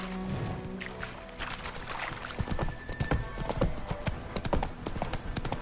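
Roach the horse in The Witcher video game, hooves clip-clopping in an uneven walking rhythm close by, with faint background music and ambience underneath.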